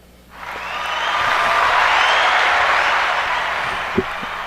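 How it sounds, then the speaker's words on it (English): A canned applause sound effect on a podcast swells up from near silence into a smooth, continuous wash of crowd clapping and cheering, then holds steady and starts to taper, with a faint hum underneath. "Yes, we got sound effects now, y'all."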